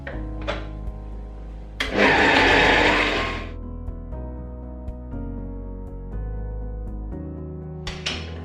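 A stand mixer fitted with a dough hook kneads bread dough, its motor whirring in a steady hum with a louder, rougher surge of churning midway before settling back to an even drone.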